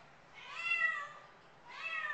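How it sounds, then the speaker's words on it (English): Two drawn-out meows from a female black and white tuxedo cat, the first longer and rising then falling, the second following after a short pause, fairly close and clear with no talk. "this is a very, very sweet cat"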